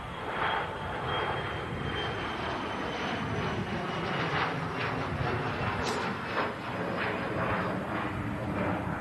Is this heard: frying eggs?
no